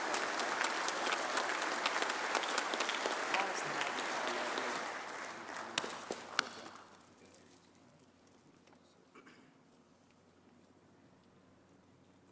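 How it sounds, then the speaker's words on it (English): Steady, full applause rises from the crowd at a Masonic Grand Lodge of Texas memorial service in honor of Brother Taylor. It holds for about six seconds, then drops away to a quiet room tone. "Let's give him a round of applause."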